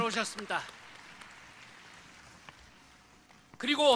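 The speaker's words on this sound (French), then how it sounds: "Applaudissons pour tout le monde." Audience applause at a praise song competition: a faint, steady patter of clapping from a hall crowd, bracketed by a voice at the start and again at the end.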